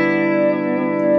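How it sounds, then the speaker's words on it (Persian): Electric guitar through a tweed-style amp with reverb and a flanger effect added, giving a sustained distorted tone with a swirling, sweeping 'whoosh' character, steady and loud with no talking. "یه ذره صدا واو واو میکنم، الان دارم بهش فلنج اد کردم"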